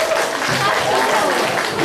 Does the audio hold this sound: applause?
yes